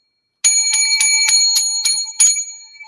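A bright bell rings seven times in quick succession for a salute, each strike loud and close with shimmering overtones that linger between hits.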